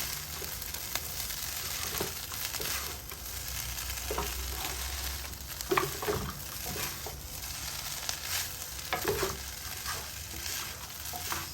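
A spoon stirs rice and fried ripe plantain (dodo) together in a hot pan, with steady sizzling and irregular scraping and clinks close up for several seconds.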